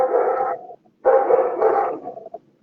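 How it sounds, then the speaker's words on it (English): A dog barks nearby in two loud bursts, each a rough, sustained volley of barks, with a short gap between them and a few quieter yips at the end. "That's my dog's barking up."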